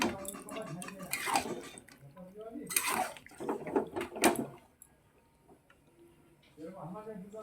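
Marinated mutton being stirred and fried in a pan for a village-style kosha, with clattering of a spoon against the pan and sizzling in uneven bursts, then a quieter stretch as a voice speaks near the end.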